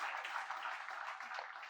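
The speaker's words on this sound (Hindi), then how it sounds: "जोरदार तालियां हो शंभू शिखर के लिए।" Audience applause for the poet Shambhu Shikhar at a televised Hindi poetry event, a quiet steady patter of clapping heard faintly from a distance, with no voices over it.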